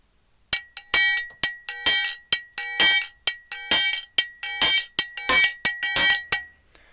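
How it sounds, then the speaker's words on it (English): A triangle struck over and over in a quick, swinging rhythm, each bright metallic ping either left ringing or cut short and choked. "This gives us the open sound. And to get the close sound, we just close."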